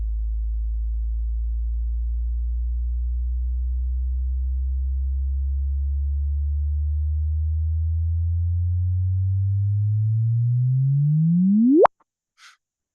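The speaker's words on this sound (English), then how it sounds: "This is the true audio analog of what these gravitational wave frequencies were." A pure sine tone sonifying a gravitational wave signal, starting as a steady low hum that slowly climbs in pitch and loudness, then sweeps sharply upward into a brief chirp and cuts off abruptly, with a faint click after; no talking.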